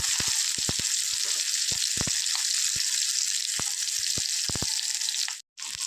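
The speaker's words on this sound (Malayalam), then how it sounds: "വെളുത്തുള്ളിയും ചുവന്നുള്ളിയും കൂടി നമുക്ക് ഇതിലേക്ക് ചേർത്ത് കൊടുക്കാം" Garlic and shallots sauté in a pan, giving a continuous bright hiss and sizzle with scattered sharp pops and spatula clicks, close up, briefly cut near the end.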